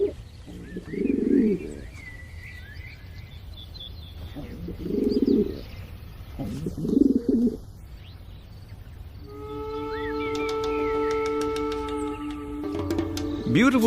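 Several rounded, throaty pigeon coos come in slow repeated bursts from birds at pigeon houses in Turkey, followed by higher chirps and tweets, with light background noise.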